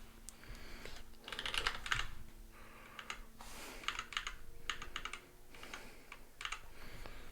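Typing on a Wheat Field Peripherals GSX980 keyboard running QMK firmware: bursts of close, clattering keystrokes in uneven clusters with brief pauses between them, no voices.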